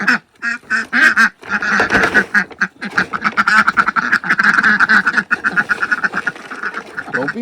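Ducks quack loudly and repeatedly in a close, busy burst of overlapping calls with brief pauses, filling the scene without any talk.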